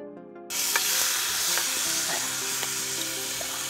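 Rohu fish hits hot melted butter in a pan and a loud, close, continuous sizzle bursts in suddenly after a brief quiet start, with a few faint pops and scrapes beneath it.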